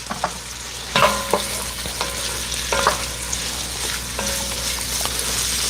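A spatula stirs fried potatoes in a pan as finely blended salt goes in: steady close sizzling, with several distinct scrapes and knocks against the pan at irregular intervals, loud and clear with no talking.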